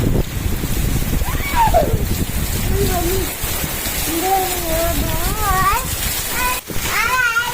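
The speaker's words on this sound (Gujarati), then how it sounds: "અત્યારે ફૂલ વરસાદ આવી ગયો છે" Heavy monsoon rain driven by wind pours down in a steady, loud wash, while excited voices chatter and call out over the downpour.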